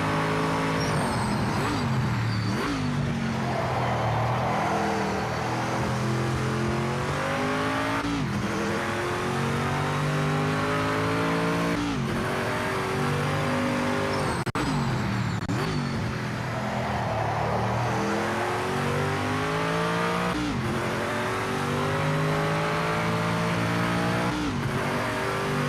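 A race car engine in the video game Project Motor Racing works through a lap, revving up and down through repeated gear shifts and braking, loud and close with no talk.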